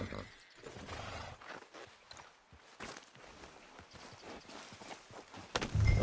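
Horse hooves clip-clopping at a walk in Red Dead Redemption 2, a steady rhythmic clatter of hoofbeats up close, with people talking over the plodding steps.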